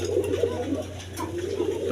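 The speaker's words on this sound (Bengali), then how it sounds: "এখানে এক পেয়ার গররা কবুতর আছে" A pair of Gorra pigeons coo in low, repeated murmurs close by, over a constant background hum.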